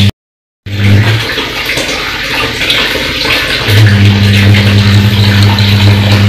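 Water runs steadily into a large household basin used for bathing and washing, a continuous rushing hiss with low humming tones underneath, starting after a brief silence and staying loud throughout.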